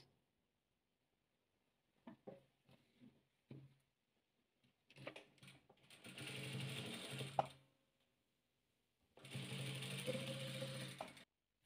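A sewing machine stitches rows of pieced quilt patchwork together: a few scattered handling clicks, then two close, steady bursts of motor whir and needle chatter of several seconds each, separated by a quiet pause.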